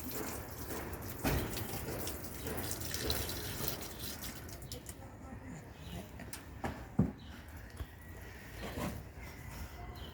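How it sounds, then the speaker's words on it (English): Water trickles and splashes softly while being poured onto a rose plant on a balcony, with occasional drips and small taps, fairly quiet against a faint background hiss. "I'm just going to water my plant"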